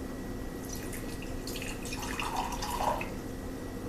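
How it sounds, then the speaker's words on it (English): Regular water poured onto crystallized honey in a jar, giving soft dripping, trickling liquid sounds that swell briefly near the end, fairly quiet and with no talk. "So what I want to do is just pour some water on it,"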